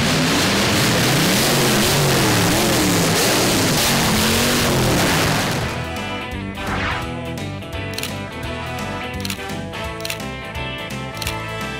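A 1956 Chevy Bel Air Gasser hot rod, built from a basket case, revs hard and loud up close for several seconds, then settles into a rough, lumpy idle at a car show.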